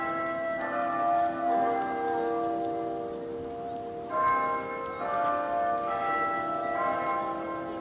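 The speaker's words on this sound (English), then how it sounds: "For whom the bell tolls." A church bell tolls with long, ringing tones, strikes overlapping as each hum fades, heard fairly close against a steady outdoor background in Sheffield, England.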